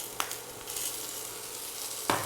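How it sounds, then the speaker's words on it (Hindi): Tomatoes go into a pan of vegetables sautéing for Indian-style pasta, giving a steady close sizzle and frying hiss, with two brief sharp clinks of a utensil at the start and end. "ये पूरा सब्जी को भूनने के बाद टमाटर डालना है इसमें।"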